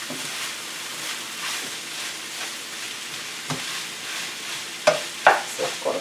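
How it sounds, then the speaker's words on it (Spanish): A spoon stirs chicken enchilada filling in a frying pan, with soft scraping strokes over a faint sizzle and a few sharper knocks and scrapes near the end. No one speaks. "vamos a irlo meneando, que incorpore todo lo que le puse"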